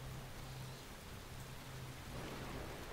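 Heavy thunderstorm rain in Space Engineers pours as a steady, dense hiss throughout, with a low rumble underneath that swells toward the end, no voices.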